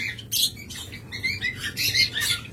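A pair of yellow Fischer's lovebirds chirps in quick, shrill bursts, several overlapping calls close by over a low background hum.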